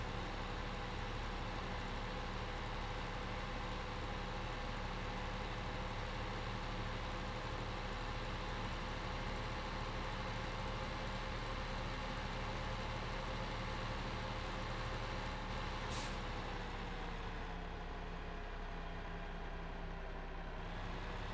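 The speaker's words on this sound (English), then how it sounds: "I keep jackknifing this truck like every single time I do a turn with this thing." Truck engine in Farming Simulator 15 droning at a steady low idle with a faint constant hum, and a short hissing burst near the end like an air brake release.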